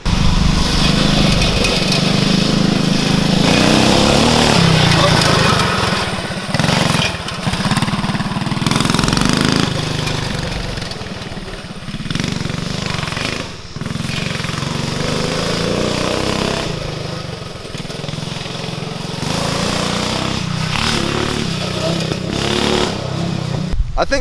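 A Coleman CT200U mini bike with a changed rear sprocket is ridden over dirt, its small engine roaring loud and close throughout, with rising and falling revs and throttle surges for over twenty seconds.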